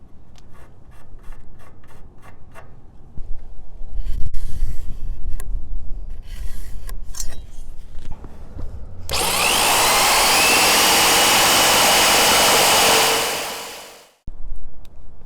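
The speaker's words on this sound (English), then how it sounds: "Looks like we gotta trim the wood just a bit." Wood on a mailbox post is trimmed by hand with scraping and rubbing strokes, then a power tool whines steadily for about four seconds before winding down, followed by more scraping.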